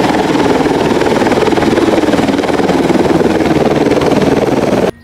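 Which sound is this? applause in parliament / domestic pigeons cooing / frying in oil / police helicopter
police helicopter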